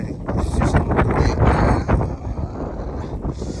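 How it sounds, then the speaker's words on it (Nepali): Strong wind roars and buffets the microphone in heavy, continuous gusts, with a rushing, rumbling texture throughout. "सब हावाले मात्र हानिरहेको रहेछ"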